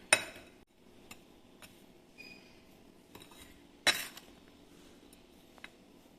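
A utensil clinks and taps against a bowl as sweet bun dough ingredients are mixed, with sharp scattered knocks, one loud strike near the start and another midway, over a quiet background.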